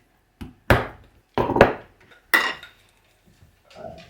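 Knife work on a jack mackerel being filleted: a few sharp, separate clacks and scrapes of the blade against the board and the bones. They come in uneven bursts, close up, and no voices are heard.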